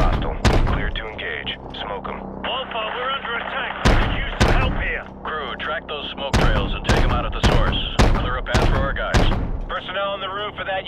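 Heavy gunship gunfire pounds a village in the Call of Duty Modern Warfare Remastered game, loud repeated bursts and booming impacts spaced through the scene, with radio chatter running underneath.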